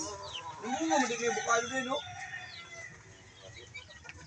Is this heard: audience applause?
no